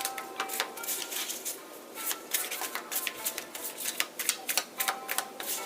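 Tarot cards being shuffled by hand, a close run of quick crisp riffling flutters and snaps in uneven bursts, with no talk.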